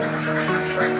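Laying ducks on a duck farm quack and honk in a dense, continuous chorus for about a second, close and fairly loud.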